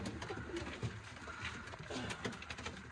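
Soft cooing from a Haymana Kara pigeon repeats a few times over a steady background hum, fairly faint and close.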